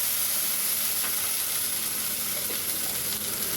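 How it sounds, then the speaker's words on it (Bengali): Whole garam masala sizzles in hot oil in a pan, a loud, close, continuous frying hiss that holds steady throughout. "তেল গরম করে আমি গোটা গরম মশলা দিয়ে করছি।"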